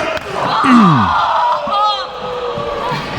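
A woman wrestler screams during a wrestling match, a loud falling cry over crowd noise and ring impacts, with another shout following while a commentator talks.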